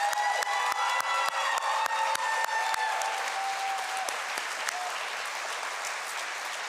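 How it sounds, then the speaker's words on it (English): Graduation-ceremony crowd applauds the West Auburn class of 2022 with a dense, sustained wash of clapping that holds steady and then thins slightly near the end, with scattered cheers within it. "Let's give the class of 2022 one more round of applause."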